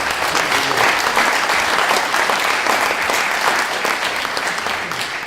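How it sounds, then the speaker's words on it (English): Loud, dense audience applause fills a speech event, a continuous roar of many hands clapping that stays strong throughout before easing slightly at the very end. "Imran Sanauallah, a round of applause for him,"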